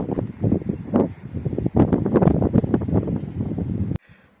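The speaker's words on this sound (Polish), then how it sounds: "Wiosenny wiatr, tak, mhm. ciepły. Ciepły wiatr." Steady warm spring wind buffeting and roaring against a microphone for several seconds, loud and close, cutting off abruptly near the end.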